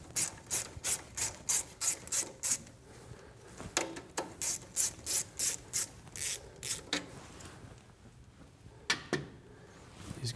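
A 10 mm ratchet clicks in quick rhythmic bursts while loosening bolts on a BMW F10 M5 engine during disassembly, steady pawl ratcheting up close, then slower, sparser strokes near the end.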